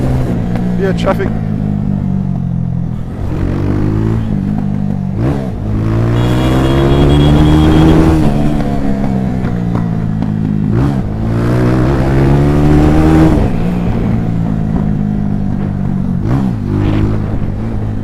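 A Missile 250 Red Top motorbike engine runs loud and close while riding, its harmonic drone rising and falling through repeated revs and gear changes, with wind rush over it.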